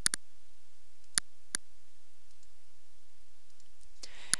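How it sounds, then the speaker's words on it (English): Computer mouse clicking during a Windows software setup: a handful of sharp, quiet clicks, a quick double click at the start, two more spaced apart, then a last one near the end, with silence between. "just click a couple times"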